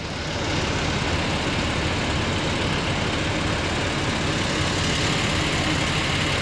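A heavy crane engine runs steadily throughout, a loud, continuous low rumble with no pauses and no voices.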